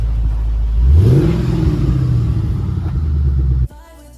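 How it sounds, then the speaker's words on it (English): A Ford Mustang GT engine revs up sharply, rising in pitch and holding a loud, throaty roar through a Roush exhaust for a few seconds before cutting off abruptly. "Give it a nice little rev, Darren."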